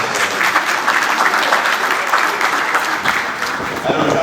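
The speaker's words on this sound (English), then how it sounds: "A round of applause." Audience applause at an environmental engineers' inauguration ceremony in Nigeria, continuous loud clapping from a hall crowd that stays even for the whole stretch, with voices faintly under it.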